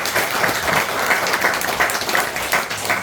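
A church congregation applauds at a retirement thanksgiving service for a pastor, steady dense clapping filling the room for about three seconds with no break.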